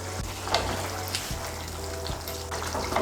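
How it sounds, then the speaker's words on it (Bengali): Curry gravy with potol and potato bubbling in a pan on medium heat, a steady soft simmer with faint bursts and occasional stirring clinks, no voices. "এই দেখুন ঝোলটা আমার ফুটে উঠেছে।"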